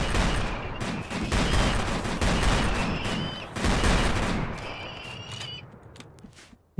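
Video game gunfire in a battle against skeletons, dense rapid bursts of shots rolling together into a continuous loud fusillade for several seconds before cutting off near the end.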